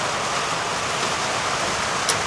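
Heavy rain pours down steadily after a sudden downpour, a dense, continuous broadband hiss with no pauses.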